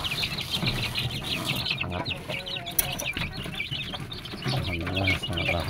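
Young free-range village chickens, chicks being raised for meat in a backyard coop, cluck and peep steadily while eagerly eating pure BR1 starter feed, a busy overlapping chorus of close chirps with soft pecking and rustling.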